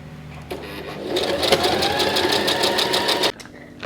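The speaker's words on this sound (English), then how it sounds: "sew it and stretch out the elastic while I'm sewing it" Sewing machine stitching elastic onto a skirt, a quick rapid whirring run that starts abruptly, speeds up, holds steady for a few seconds and then stops sharply.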